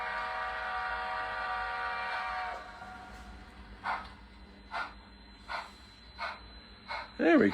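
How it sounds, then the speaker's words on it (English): A train on the Valley Local line sounds a long, sustained, tonal whistle for a couple of seconds, then quieter rhythmic clacks and knocks pass at a steady beat as it rolls by, ending with a brief louder burst. "see if we can catch a train"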